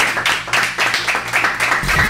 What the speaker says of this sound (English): A round of applause for Ben, please